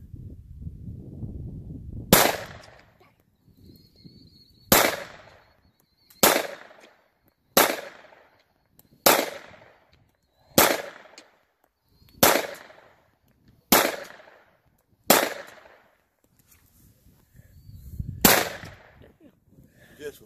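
About nine sharp, loud gunshots from a Glock pistol cracking out one by one at a steady pace of roughly two seconds apart, each with a short echoing tail, with faint background murmur between shots.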